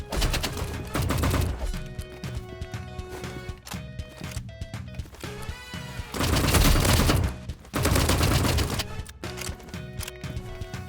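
Burst rifle gunfire in the Rivals video game, loud rapid volleys of shots firing in repeated clusters, with short gaps and reload clicks between bursts.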